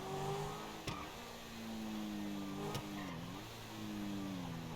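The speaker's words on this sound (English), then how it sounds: "this is the Lamborghini Aventador with the Liberty Walk kit on it, wide body." Wide-body Lamborghini Aventador with a Liberty Walk kit driving in Grand Theft Auto V: a steady engine drone rising and dipping as it accelerates, with two short sharp clicks, fairly quiet and alone without talk.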